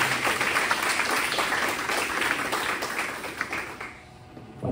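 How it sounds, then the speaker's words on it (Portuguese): A Baptist church congregation at a Sunday missions service gives loud, sustained applause, thick and continuous, tapering off toward the end. "dê um forte aplauso ao Senhor"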